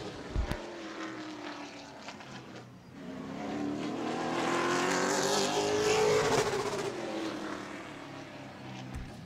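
A pro late model race car engine roars under power during qualifying laps at Auburndale, a loud sustained drone that rises in pitch as the car passes close by, then fades slightly toward the end.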